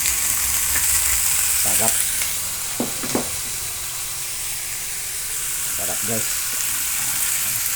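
Squid adobo with tomatoes frying in a pan, a loud, steady hissing sizzle with a few clinks of stirring, while someone speaks briefly over it.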